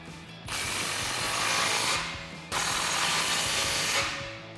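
Two bursts of a power tool or ratchet tightening exhaust clamps that join the muffler and resonator sections of a 2018-2020 Mustang GT cat-back exhaust, each a loud close whirring run of about two seconds with no voices.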